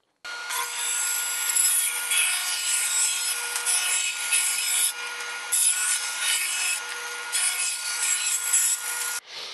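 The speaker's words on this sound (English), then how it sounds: "bring the bandsaw in and cut some circles" A bandsaw slices wooden circles in a steady, loud cut that runs almost the whole time, with short dips in level where the blade eases off between passes before it stops near the end.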